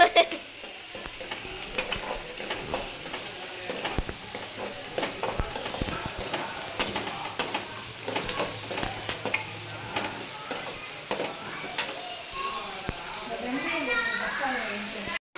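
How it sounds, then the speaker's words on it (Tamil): Vegetables sautéing in a pan in a South Indian village cooking setting, a steady sizzle broken by scraping and stirring of the pan throughout. "இப்போ இதெல்லாம் நல்லா வறுத்து எடுத்துடணும். வறுத்து எடுக்கிறது இல்லை, வதக்கணும்."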